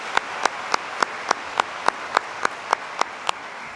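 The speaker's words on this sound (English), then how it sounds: "please join me in a round of applause for the MacEwan University Big Band" Convocation ceremony audience claps for a university big band, heard as a broad applause wash punctuated by a loud, evenly spaced clap repeating about three times per second, like one person clapping in steady rhythm close by.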